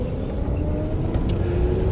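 Electric car with a Zilla motor controller turned down for low current, rounding a corner in first gear, giving a steady low motor drone with a faint whine, close and continuous with no talk.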